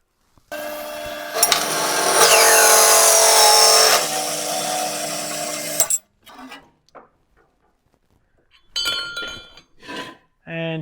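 Hacksaw or power saw cutting through metal tube clamped in a vise, a loud, dense rasping burst lasting about five seconds before stopping, followed by quieter clinks and handling noises.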